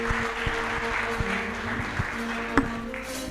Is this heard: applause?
yes